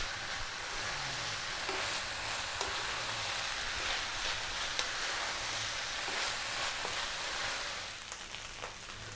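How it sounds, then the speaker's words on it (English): Steady, dense sizzling of chicken fried rice frying and browning in a hot pan, with occasional stirring scrapes and small pops, continuous and close throughout. "That's your rice frying, that's where you want it."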